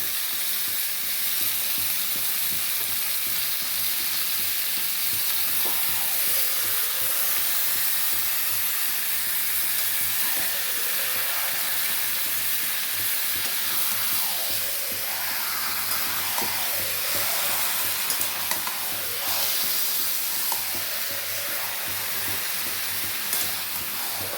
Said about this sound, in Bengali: মটনটা দেওয়ার পরে এবারে নাড়িয়ে চাড়িয়ে নেবো